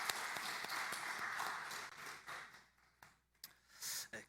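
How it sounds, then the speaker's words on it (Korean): Church congregation at a special early-morning worship service applauding together, a loud sustained round of clapping that thins into scattered claps and fades out toward the end. "박수 한번 더 하도록 합니다."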